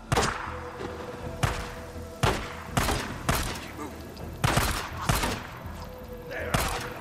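Gunshots in the Days Gone video game fired at enemies, a string of sharp, loud reports spaced irregularly about half a second to a second apart over a low background hum, with no talk.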